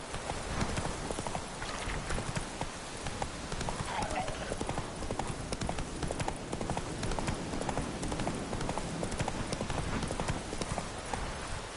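Roach the horse trotting in The Witcher 3, a steady run of clip-clop hoofbeats filling the whole stretch over a dense, busy background, with talk faintly present.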